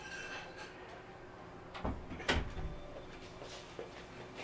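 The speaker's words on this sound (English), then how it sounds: "Just open the door here for my dog." A door at home opened to let a dog through, a soft creak and clunk followed by a sharper close thump, fairly quiet and brief, with no talk over it.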